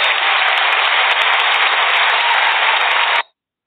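Crowd applause at a State of the Union address, a loud, dense wash of clapping that holds steady for about three seconds and then cuts off abruptly.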